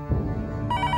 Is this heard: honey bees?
no